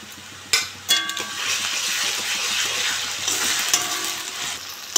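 Ginger garlic paste hitting a pan of frying onions and green chillies, giving a continuous loud sizzle with a few sharp clinks of a spoon stirring against the pan.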